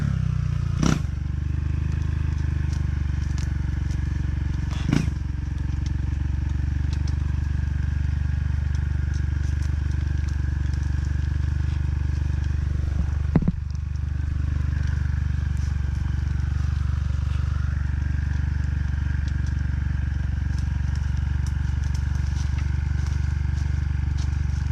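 Motorcycle engine being started in the rain gives a steady, low, throbbing rumble throughout, broken by a few sharp clicks and clatters at intervals.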